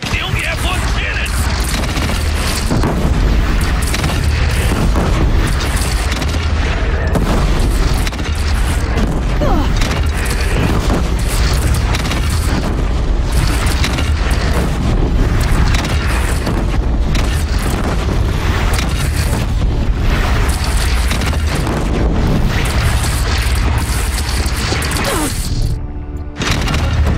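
Cannon fire and explosions rumble nonstop in the video game Horizon Zero Dawn, a dense loud barrage of booms and crashes with battle noise throughout.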